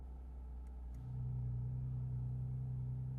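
A Porsche exhaust switches to loud mode, and a steady engine drone rises into a stronger, deeper hum about a second in, holding evenly at close range afterward.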